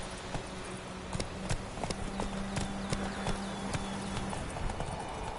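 Roach, the horse in the video game Witcher 3, gallops in a quick, rhythmic clip-clop of hooves that stays close and steady throughout, with a faint tonal hum underneath.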